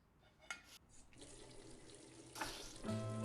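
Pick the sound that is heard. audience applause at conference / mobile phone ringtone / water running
water running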